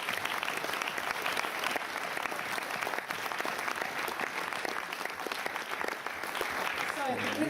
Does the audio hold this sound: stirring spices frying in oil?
no